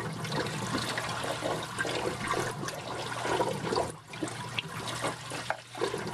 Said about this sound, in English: Bubbles in the sump.